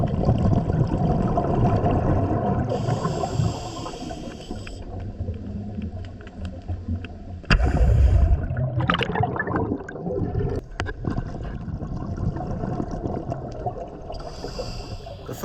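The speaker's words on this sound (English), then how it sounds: "The first task is to clear all the weed from the trench, and the airlift makes light work of this" Underwater airlift dredge clearing weed from a trench on the wreck of the warship Hazardous, lost in 1706, producing a continuous bubbling, gurgling rush of air and water with occasional louder surges.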